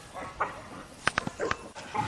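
Short yips and barks from dogs at a game dog kennel, a few sharp, close bursts clustered together against a quiet background with faint animal noises between them.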